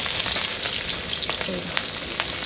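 Garlic and chili tempering sizzles steadily in hot oil, a dense continuous crackle with a few sharper pops breaking through, close and fairly loud with no talk.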